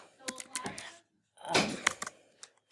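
Typing on a computer keyboard comes in two quick bursts of close, light key clicks separated by a short pause, soft and intimate with no voice.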